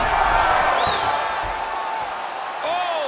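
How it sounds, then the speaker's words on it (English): A crowd in the UFC 5 video game roars in appreciation during a ground battle, a steady wash of cheering with a few whoops rising above it, while a commentator talks over the noise. "no surprise, the crowd pops in appreciation"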